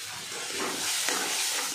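Masala spice paste with a little salt frying in oil in a pan, a continuous loud hiss and sizzle close by, no voices.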